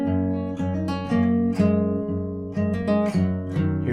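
Guitar plays part 2 of a song, a plucked pattern of picked notes against open strings, close and clean with a gentle repeating rhythm, no voices.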